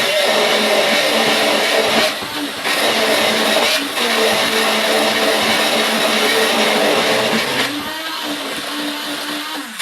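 A loud, steady electric hand mixer motor whirs continuously while mixing San Sebastian cheesecake batter, with a couple of brief dips in pitch and strain partway through.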